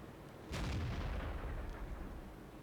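A tank gun firing in the World of Tanks video game: one heavy boom with a long rumbling tail fading slowly over a couple of seconds.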